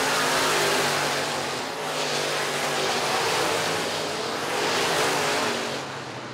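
IMCA modified race cars circling the dirt oval at WaKeeney Speedway, loud engine roar that swells and fades as cars pass close by, with two pass-by surges across the stretch.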